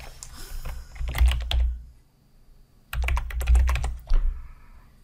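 Typing on a computer keyboard: two quick, close bursts of key clicks separated by a short pause, clear and up close.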